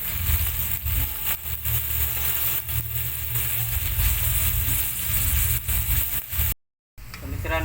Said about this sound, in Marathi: कांदा ब्राऊन झाल्यावर तेलावरती शेवंडे टाकायचे